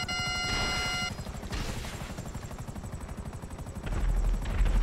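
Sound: helicopter flying in the video game Grand Theft Auto

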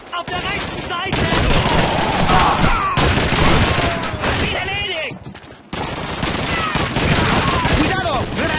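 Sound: gunfire in the video game Call of Duty 2

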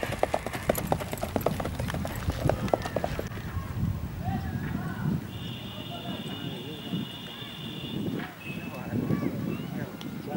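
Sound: horse walking, hooves clip-clopping

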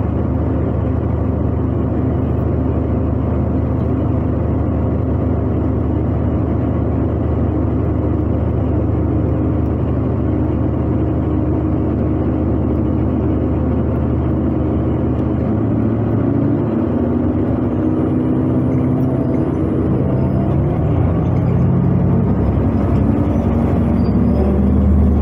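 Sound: city bus departing and driving

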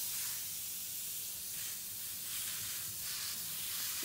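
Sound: water spraying from a hose

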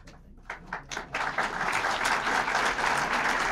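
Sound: audience applause at presidential awards ceremony

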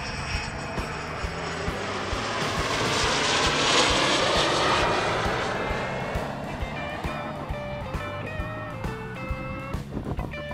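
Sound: airplane flying overhead

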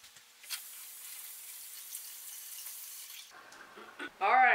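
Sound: rinsing cabbage under running tap water

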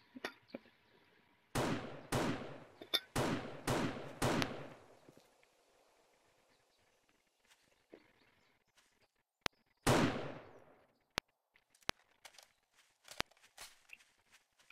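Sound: gunfire from a video game

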